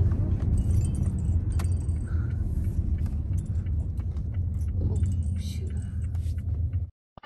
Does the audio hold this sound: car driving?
yes